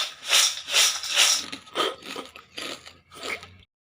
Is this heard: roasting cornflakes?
yes